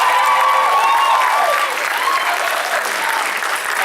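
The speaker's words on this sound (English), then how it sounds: "Come on, more applause for anime." A dense crowd applauds at an anime convention, with loud, steady clapping that fills the room, fades slightly partway through, and carries some scattered cheers within it.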